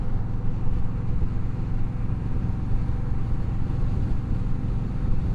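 An Indian Scout Bobber 20 with an American V-twin engine cruises on the interstate, its low throaty engine drone steady and loud under constant wind rush.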